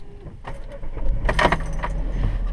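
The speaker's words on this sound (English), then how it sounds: "So I turned the ignition on." Car keys jingle as they are turned in the ignition of a car on a snowy day, followed by the engine catching into a steady low rumble that continues to the end, close and fairly loud, with no talk.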